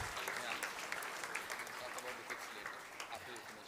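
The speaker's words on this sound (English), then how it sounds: "Let's again give a big round of applause." A big round of applause from a gathering at a Brahma Kumaris spiritual event, continuous dense clapping at a moderate, somewhat distant level.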